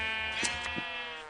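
Sheep in the video game Minecraft giving a short bleat over a steady droning background.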